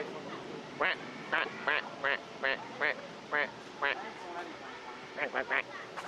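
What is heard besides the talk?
ducks quacking at Disneyland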